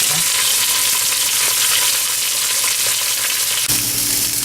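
Pork frying in a pan, a steady loud sizzle with crackling spits, holding even throughout with a slight shift near the end as the piece settles.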